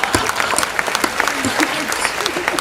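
Audience applause at a Hindi comic poetry recital, steady dense clapping from a crowd lasting throughout, fairly loud and close.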